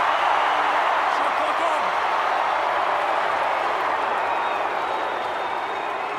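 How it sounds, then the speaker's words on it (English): Crowd at a Tonga versus Samoa rugby league international roaring and cheering in a dense, sustained wash of noise, with a commentator speaking over it. "Listen to that crowd."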